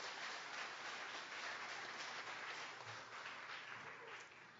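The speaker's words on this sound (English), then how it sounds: "Please give them a round of applause" Faint, distant applause rises from an audience after a university debate round, a soft continuous patter of many hands that stays steady and gradually thins toward the end.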